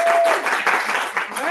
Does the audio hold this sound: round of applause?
yes